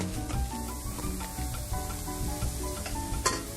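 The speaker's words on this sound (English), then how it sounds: "We're going to put them in here and we're going to get those sweating" Diced onions sweat in a pan for a poached salmon dish, giving a steady close sizzle with light stirring and scraping throughout, no voices.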